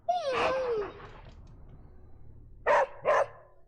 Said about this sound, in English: You see my doggy?